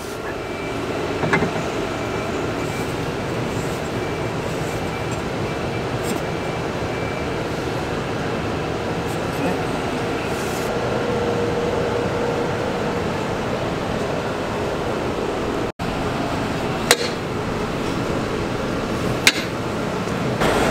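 A working industrial estate gives off continuous broadband noise with a steady rumble, faint clanks and a few sharp metallic knocks, heard throughout with no voices.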